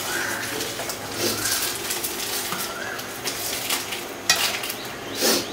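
Eggs with salt and turmeric are stirred in an oily pan over a constant sizzle, with a few soft scrapes and utensil clinks close by.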